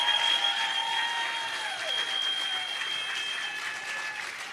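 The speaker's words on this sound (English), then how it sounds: "Let's give them another round of applause." A crowd applauds steadily throughout, a dense wash of clapping at an even, moderate level across the whole stretch.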